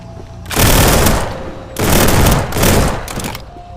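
A fast-firing weapon in a VR zombies game lets out three loud, dense bursts of rapid shots, close and separated by short pauses, with no talking.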